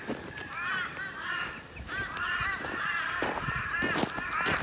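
Several crows caw repeatedly while chasing each other outdoors, with harsh overlapping calls coming in bursts at moderate distance and no talking.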